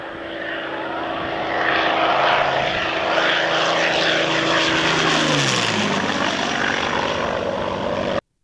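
A propeller airplane flies overhead, a loud broadband engine drone that builds, then drops in pitch as it passes at close range before cutting off abruptly at the end.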